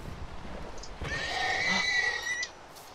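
A horse in Minecraft whinnies once, shrill and drawn out, for over a second above a faint background hiss.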